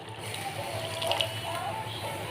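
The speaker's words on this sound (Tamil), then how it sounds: "ரைஸ் தண்ணி நல்லா கொதிக்குது." Rice water comes to a rolling boil in a pot for a Tamil brinjal kara kuzhambu, a steady bubbling, churning watery sound that is close and fairly even, with no talk over it.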